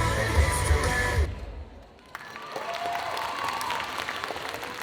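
Applause for a Batwoman cosplayer at a cosplay parade during a game show event, with crowd clapping following loud music that cuts off, then a brief lull before a moderate, fairly distant clapping resumes and continues.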